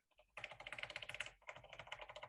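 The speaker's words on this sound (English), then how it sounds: "It actually sounds like a VIC-20. It does. It sounds like a normal keyboard." Keys on a vintage computer keyboard, compared to a VIC-20, are pressed in two quick runs of rapid, crisp clicks, close to the microphone with no talking over them.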